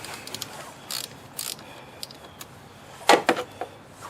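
A ratchet loosens a battery terminal on a 2011 Ford Edge, giving a few quiet scattered clicks followed by a louder burst of quick ratcheting clicks near the end, close by.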